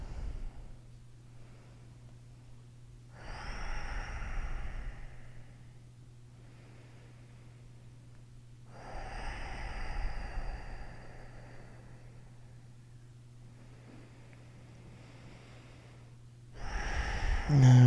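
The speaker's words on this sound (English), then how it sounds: "breathe, breathe, breathe" Slow, deep breathing during a yoga forward fold over the left leg: three long, soft airy breaths spaced several seconds apart, close and fairly quiet over a steady low hum, with a louder breath at the end.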